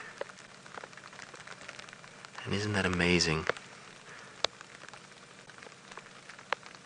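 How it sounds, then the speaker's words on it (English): Light rain pattering steadily and softly on a quiet evening safari drive in the African bush, with scattered drips over a low hiss, briefly interrupted by a voice. "you'll actually hear the pitter-patter of the rain falling."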